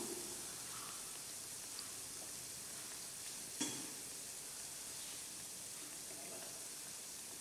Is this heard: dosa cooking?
yes